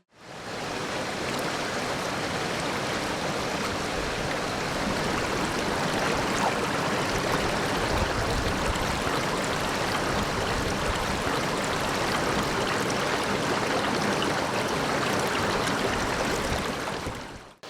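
Treated clean water at a wastewater treatment plant rushes in a steady, broadband hiss and roar, continuous and loud from start to finish with no breaks.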